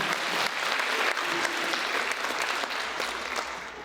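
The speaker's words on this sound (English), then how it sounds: "One more round of applause, please, audience." An audience at a high school orchestra spring concert applauds after the ensemble's performance, a dense, steady wash of clapping from a full hall that tapers slightly at the end.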